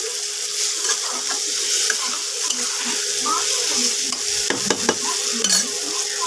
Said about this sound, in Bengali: হাফ চামচ মতো একটু আদা বাটা দিলাম দিয়ে একসাথে নেড়ে নিচ্ছি